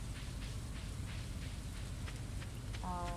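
Rain falling in the farming game Stardew Valley, a soft steady hiss of drops over a low rumble, continuous throughout, with a brief chime near the end.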